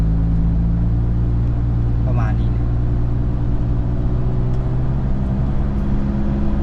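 A city bus engine rumbles steadily in a street in Vientiane, Laos, a continuous low drone with traffic noise throughout while someone talks over it.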